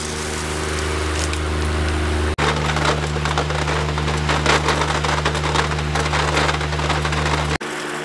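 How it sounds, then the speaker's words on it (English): A fan running on high blows chaff off a scoop of field corn, giving a loud, steady broadband rush with a persistent hum and a brief break midway, close and alone. "I'm gonna turn this fan on high. I'm gonna blow chaff off, just like this."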